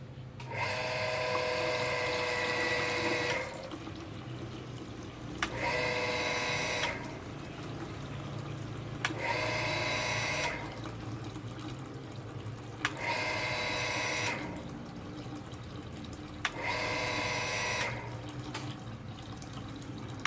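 A homemade water ram pump fitted with a horizontal tube runs under test, giving repeated bursts of rushing, gurgling water that cut off sharply at regular intervals of a few seconds over a steady low background.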